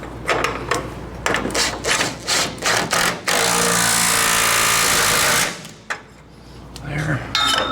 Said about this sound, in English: Snug these frame bolts or cross member bolts back down.